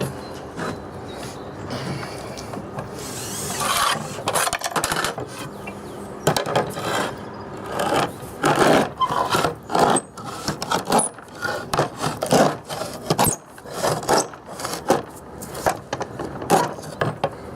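A cutter saws through slate siding with uneven rasping and grinding strokes, loud and near, in choppy bursts separated by brief pauses.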